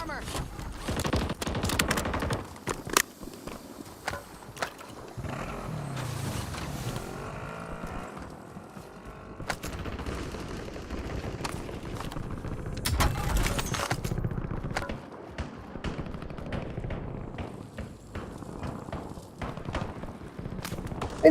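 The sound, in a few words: gunfire in a video game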